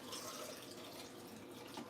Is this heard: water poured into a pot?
yes